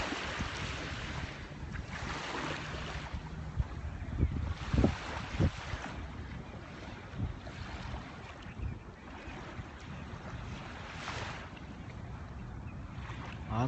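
Waves wash onto Waikiki Beach in a continuous broad roar, swelling in soft surges every few seconds, with wind buffeting the microphone and no talking.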